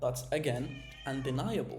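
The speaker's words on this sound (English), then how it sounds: "And that's my cat screaming." A cat screaming indoors, a drawn-out, wavering yowl that comes close and loud in two rising and falling bursts. It plays alongside a person talking.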